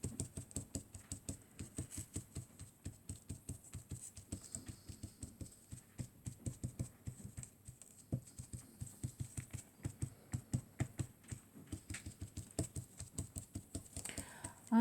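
Applicator pad dabbed onto rhodoid sheet with alcohol inks, giving a steady run of soft, quick tapping pats in an even rhythm, close and fairly quiet, with no talking.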